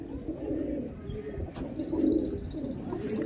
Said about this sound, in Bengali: আর এটা হচ্ছে মাদি পায়রা